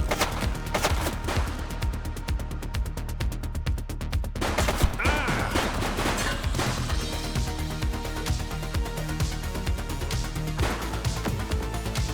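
Gunfire in the police game The Precinct: a long run of rapid automatic bursts mixed with single heavy shots, loud and nearly continuous over a dense game soundtrack.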